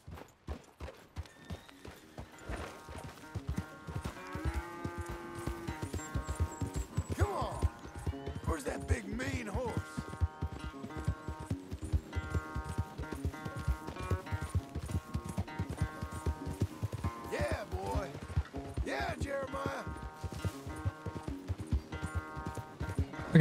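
Rhythmic hoofbeats of a galloping horse in Red Dead Redemption 2, steady clip-clop running throughout under a layered game soundtrack and occasional voice.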